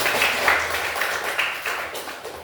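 Classroom of schoolchildren clapping together for a short burst, steady mid-level applause fading slightly toward the end.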